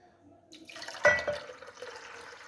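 A glass of water poured into a pot of chicken cooking for shami kabab gives a short, quiet splash that settles into faint trickling.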